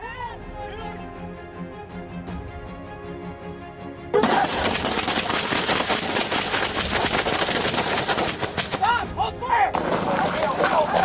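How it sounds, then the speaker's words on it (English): A burst of heavy, rapid gunfire erupts suddenly after a quieter stretch while firefighters fight a fire, continuing loud and dense with sharp cracks. "As firefighters worked to contain the flames, gunfire erupted."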